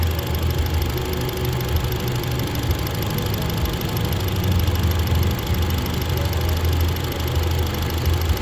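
A car engine idles steadily throughout, a constant low rumble with no speech.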